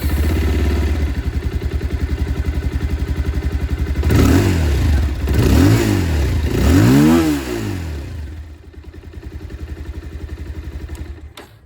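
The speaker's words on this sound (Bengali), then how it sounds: "আর এবার চলুন আপনাদেরকে আমি যে এক্সস্ট সাউন্ড সেটাও একবার এখানে শুনিয়ে দিই।" A 2025 Bajaj Pulsar 220F motorcycle sits at a steady idle, then the exhaust swells through three or four sharp revs before settling back to a lumpy idle. It is close, loud and alone, with no talking.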